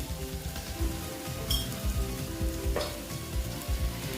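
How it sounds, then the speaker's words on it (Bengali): Poppy seeds frying in white oil in a pan, a steady close sizzle and crackle running throughout with small pops scattered across it. "পোস্তগুলো দিয়ে দিচ্ছি দিয়ে পোস্তটা আমি ভেজে নিচ্ছি তেলটা"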